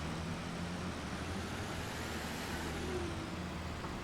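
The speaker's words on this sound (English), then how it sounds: "I think this bus just sounds really nice" A bus engine in the OMSI 2 bus simulator game idles and runs at a steady low drone, faint and continuous with a soft broadband hiss over it, no voices.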